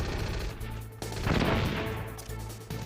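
Enemy soldiers firing guns in the video game Metal Gear Solid, a dense crackle of gunfire over a rumbling game soundscape with a swell of noisy blasts in the middle, no talking.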